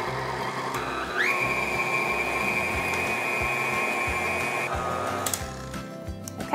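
An electric mixer beats cake batter on medium speed, a steady motor whine with a rhythmic mechanical thumping underneath, then winds down and stops with a few clicks near the end.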